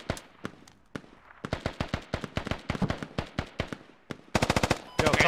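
Gunfire in the video game Squad: sharp single shots and rapid bursts that grow into automatic fire near the end, loud and close, without talk.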